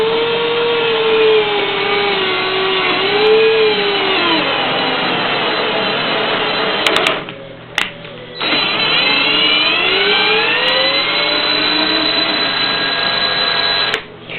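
A hand tap cutting thread into a drilled hole for a bolt on a telescope frame, heard as a steady grinding, whirring machine-like drone that runs for several seconds, breaks off briefly, then resumes.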